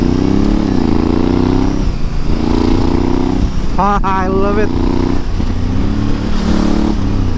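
Honda Africa Twin DCT motorcycle with a 1000cc twin-cylinder engine, rumbling and revving in repeated rising pulls, with a person talking over it.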